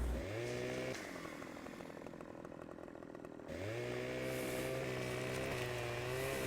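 A chainsaw cuts a tree in the video game Farming Simulator 15, its engine revving high, dipping to a lower throttle for a few seconds, then roaring back up, loud and steady with no talking.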